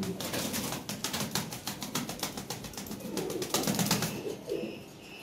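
Red Lahore pigeons coo in a loose, repeated series of soft throaty calls, close and fairly steady, with faint flutters and chirps around them.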